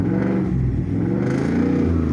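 A lifted 2018 Ford F150 Lariat 4x4 with a 5.0 V8, straight pipes and no muffler or cats, rumbles and revs briefly, loud and close, with no talking.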